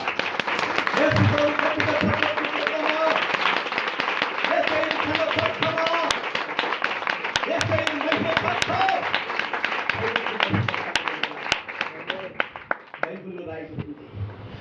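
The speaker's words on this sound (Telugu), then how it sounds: "యేసయ్య బట్టి ఒకసారి చప్పట్లు కొడదామా" A church congregation claps for Jesus, sustained applause from many hands running throughout while a voice speaks over it, fading near the end.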